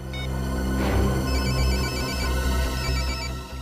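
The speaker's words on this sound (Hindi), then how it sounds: "घंटी तो बज रही है और आवाज भी आसपास से ही आ रही है" A mobile phone ringtone plays continuously with a repeating electronic tone pattern, accompanied by a low steady hum.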